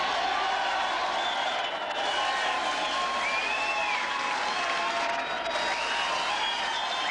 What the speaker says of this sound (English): accepting the applause and the adulation of the crowd here at the Bankstown Sports Centre